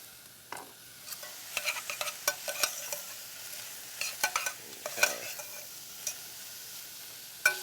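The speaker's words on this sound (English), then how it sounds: "I'm going to take our diced up turkey meat here, add that into the pot" Diced turkey meat and onions cook in a pot with a quiet, low sizzle, broken by frequent clicks and scrapes of stirring at an irregular rhythm.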